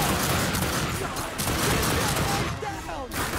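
Rapid gunfire from shooting in the video game The Darkness 2 forms a loud, dense, continuous barrage that fills the whole short stretch, with a voice faintly mixed underneath.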